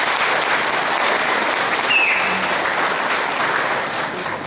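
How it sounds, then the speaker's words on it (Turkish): Audience applause at a commemoration event for martyrs, steady dense clapping from a crowd, sustained and fairly loud, easing slightly toward the end. "bir alkış istiyorum lütfen efendim"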